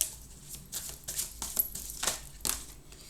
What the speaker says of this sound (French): On va aller retirer quelques cartes.